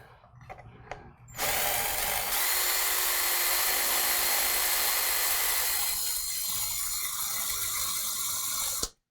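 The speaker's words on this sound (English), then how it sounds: "This is an impact tool." A handheld impact tool drilling out a screw while a laptop drive is being swapped for an SSD, whirring loudly and continuously for several seconds after a few light clicks, then stopping abruptly.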